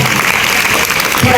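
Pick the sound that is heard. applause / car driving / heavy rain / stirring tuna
applause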